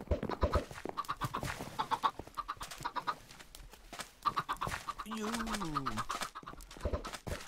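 Chickens cluck in the video game Minecraft, several short clucks scattered under frequent close talking.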